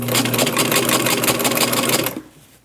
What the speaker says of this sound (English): We're just going to sew it in there.